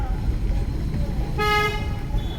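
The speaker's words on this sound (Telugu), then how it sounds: "హారన్ చేయండి" A car horn blares once, a short sharp honk cutting through the low rumble of an idling engine.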